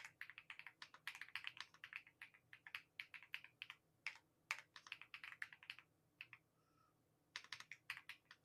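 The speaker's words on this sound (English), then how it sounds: "I don't know what switches are in this keyboard, but they sound awesome" Quiet, crisp clacking of a mechanical keyboard being typed on in quick bursts, with a brief pause before the typing resumes.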